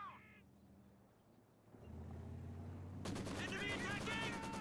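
An early Maxim machine gun fires in a 1v1 match of a real-time strategy game. The fire is a dense, rattling stream that starts suddenly and keeps going, loud against background battle noise, with commentary around it.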